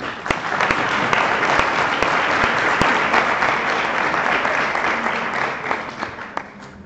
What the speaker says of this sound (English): we can clap for Anya